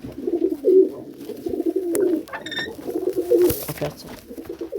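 Soft, repeated pigeon cooing close by, low throaty phrases recurring every second or so, with a few faint clicks and rustles between them.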